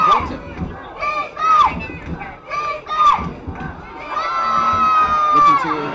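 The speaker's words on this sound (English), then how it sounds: "the cheerleaders are joining in now" Cheerleaders and the crowd at a high school football semifinal between Upland and Bishop Diego shout and cheer in bursts, loud and lively, with spirited yelling rising and falling over a continuous crowd roar.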